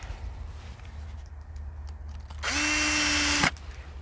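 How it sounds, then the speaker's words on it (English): An electric drill bores through wood, a single whining burst of about one second that stops abruptly, close and clear against a quiet background with faint handling noises before it. "Don't want the drill to go straight through because of the plastic."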